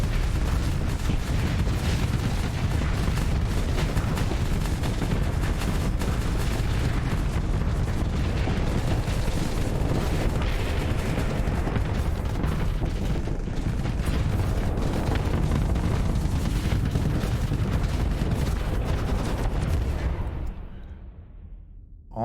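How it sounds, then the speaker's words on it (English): Massed flak cannon fire in the space combat game Starsector shreds incoming missiles in a loud, unbroken volley of bursts and rumbling booms that cuts off abruptly near the end. "Yeah, all the flak cannons are hitting the missiles."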